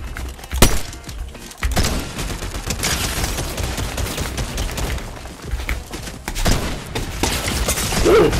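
Auto shotgun fire in a video game ranked match: rapid close bursts of loud blasts, with a dense stretch of continuous gunfire and cracking impacts, brief quieter gaps between volleys.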